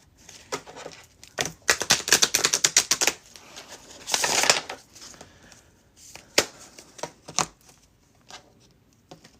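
Tarot cards with foil-edged stock riffle and slap together in quick bursts of crisp, papery clicks, a dense flurry early on and scattered sharper flicks afterward, close and fairly loud with no talking.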